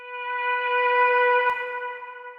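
A vocal sample pitched up an octave fades in as a riser transition with reverb, sustained bright stacked tones swelling smoothly, then a short click midway before a gently trailing echoing tail.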